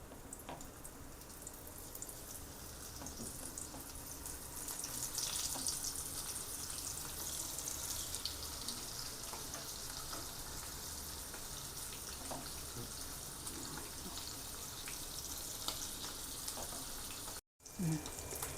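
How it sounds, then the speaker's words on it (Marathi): Small battered mandeli fish fry in a pan with oil, giving a steady, continuous sizzle and crackle. The sound holds close and even throughout, with faint clinks and a brief drop near the end. "याच्यामध्ये फ्राय करण्यासाठी। आपण असे पॅनमध्ये टाकूया।"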